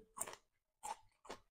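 Crisp vegetables crunched between the teeth, eaten alongside a spicy Isan wood-ear mushroom salad, three short close bites with pauses between them and no talk.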